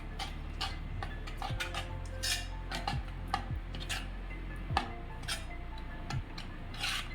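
Rava dhokla batter with lemon juice being mixed in a bowl, a quick run of light, rhythmic clicking and tapping strokes, close and clear, with no talking.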